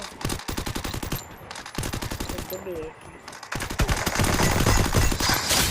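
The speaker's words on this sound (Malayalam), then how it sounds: "UMP കുത്തി പിടിച്ചൊരു ഹെഡ്ഷോട്ട് അടിച്ചിട്ടുണ്ട്" Rapid bursts of UMP submachine gun fire from a mobile shooter video game, repeated volleys crackling loudly and nearly without pause, with brief gaps between strings of shots.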